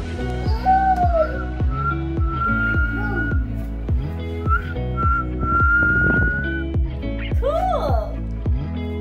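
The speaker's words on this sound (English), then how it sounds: "Can I whistle?" A person whistles a melody of sustained and gliding notes. Steady, loud background music plays under the whistling throughout.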